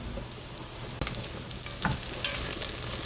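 Pork belly sizzles and crackles in a small amount of oil in a pan during braising, a dense close frying hiss with a few sharper pops and stirring scrapes, no voices.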